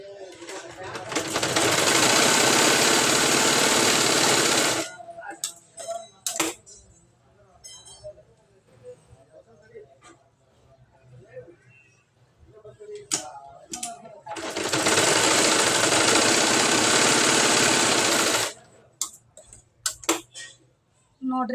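Sewing machine stitching a lined blouse runs in two steady, fast bursts of several seconds each, loud and close, separated by quieter handling clicks and a voice talking.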